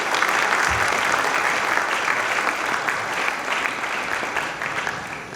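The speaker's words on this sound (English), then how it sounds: "A huge round of applause for the students, please." Loud, sustained applause from an audience at a technology centre launch event in India, many hands clapping in a thick continuous roar that slowly eases toward the end.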